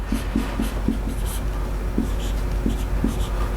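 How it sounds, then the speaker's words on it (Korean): Pen strokes from someone drawing a diagram by hand on paper: a string of short, quiet scratching taps in an uneven rhythm, close by, over a faint background hum. "도표를 하나 이제 그려볼 건데요. 제가 글씨를 좀 못 써가지고"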